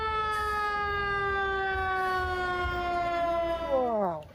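A toy fire truck's siren wails steadily and loudly at close range, then its pitch sags downward as it winds down at the end.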